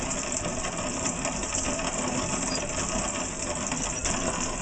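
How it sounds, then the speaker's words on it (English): A Lehman's hand-cranked grain mill grinds grain into flour, giving a steady, dense gritty whir with a fast mechanical rattle that runs unbroken at close range, with no voices. "So it takes about 20 minutes to completely grind 3 cups of flour"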